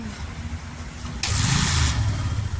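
A Bajaj Pulsar 150 motorcycle fails to start: over a constant background rumble, a single loud cranking burst churns for under a second and then dies away without the engine catching.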